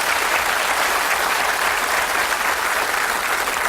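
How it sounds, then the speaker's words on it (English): A studio audience at a British TV darts quiz show claps steadily in a full, even round of applause, loud and close, with no talking. "That's worth a round of applause for everybody."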